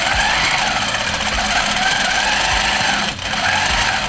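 A longarm quilting machine stitches out a feather design, giving a steady, close mechanical hum with a faint rapid low thumping of the needle, running continuously with one brief dip near the end.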